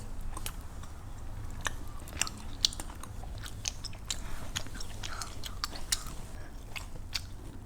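Spicy tteokbokki rice cakes being chewed up close, with soft repeated biting and crunching sounds at an irregular pace over a steady low background hum, and no talking.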